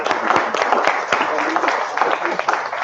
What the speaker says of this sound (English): A warm round of applause for Michelle.